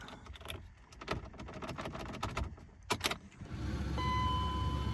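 A newly cut car key jingles and clicks as it scrapes into a tight ignition, followed by several sharp metallic taps before a steady low electrical hum and a faint chime settle in.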